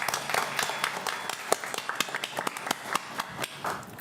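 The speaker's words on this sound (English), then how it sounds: "if you would join me in giving the Chief a round of applause" Applause for a retiring police chief at a public safety committee meeting, a steady round of clapping from the room with sharp individual claps standing out, fairly distant and lasting throughout.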